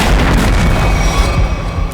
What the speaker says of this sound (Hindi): लगता है कहीं धमाका हुआ है